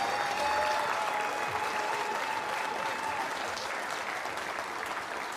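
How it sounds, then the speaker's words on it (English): Steady audience applause for the two finalists at a snooker final, the Champion of Champions, sustained and dense throughout with a faint tonal hum beneath. "may we have another round of applause"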